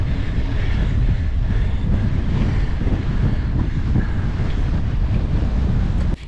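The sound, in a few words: strong headwind blowing on mountain bike race trail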